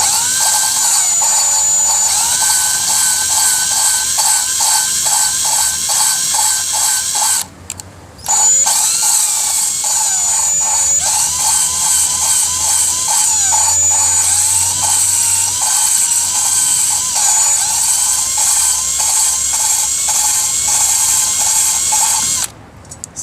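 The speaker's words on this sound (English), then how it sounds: "if I pull too much with the drill, the holes will come off the valve" A handheld power drill grinds engine valves, whining loudly and steadily up close, with two brief stops partway through.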